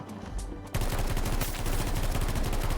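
Rifle fitted with a compensator fired in short controlled bursts in Battlefield 2042, a quiet moment giving way to a loud, rapid rattling stream of close shots with no talking.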